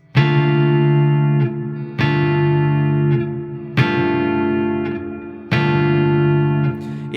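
Two-handed tapping on an electric guitar voices a minor 9th extension chord four times, each a bright sustained ring with effects and reverb that decays before the next sharp attack, loud and alone.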